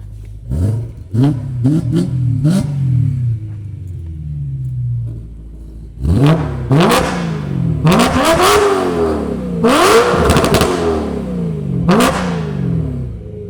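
A BMW M3 engine revs hard again and again, loud, close bursts of rising and falling roar, a few quick blips first, then longer throaty revs.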